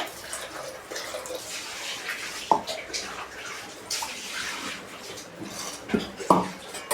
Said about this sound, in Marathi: ते आपण याच्यात पाणी टाकू